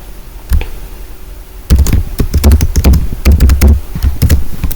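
Password keys tapped on a computer keyboard: a single early keystroke, a pause, then a fast, close run of clicky taps without any voice.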